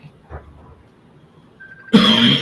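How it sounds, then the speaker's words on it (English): A single sharp cough bursts out near the end after a quiet stretch with faint throat noise, loud and close, with no talking. "sorry for my cough"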